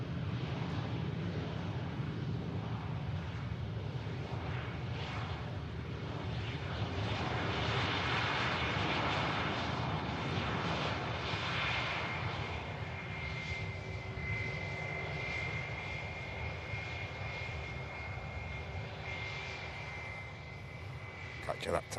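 A Ryanair airliner taxis on a damp runway, its jet engines a steady, broad roar that swells and then eases slightly, with wind buffeting the microphone and a voice talking over it at times.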